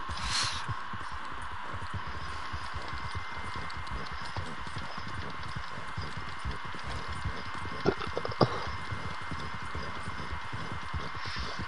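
Horses gallop in Red Dead Online, a dense, rapid drumming of hoofbeats that carries on unbroken and fairly loud for the whole stretch, with a couple of sharper knocks near the end.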